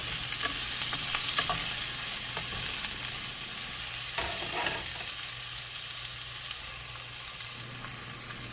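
Onions sautéing with ginger in a pan, a steady broadband sizzle running throughout with occasional stirring scrapes and clinks, close and continuous.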